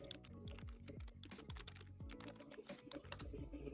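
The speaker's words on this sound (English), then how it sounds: "you have a very loud keyboard" Loud computer keyboard typing, with rapid irregular keystrokes and a few heavier thumps, close to the microphone and with no voices.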